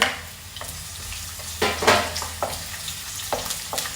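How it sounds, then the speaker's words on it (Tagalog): Chopped onion frying in about two tablespoons of hot oil for a tilapia dish, a steady close sizzle broken by several scraping stirs of a utensil against the pan. "unahin na muna natin ilagay ang ating sibuyas"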